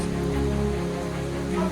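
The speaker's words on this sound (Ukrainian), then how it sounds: "Ось там якийсь тече водоспад, мабуть, тому що падає дощ." Rain falling outdoors near a flowing waterfall, heard as a steady, even wash of water hiss over a low rumble, continuous and moderately loud, with no speech.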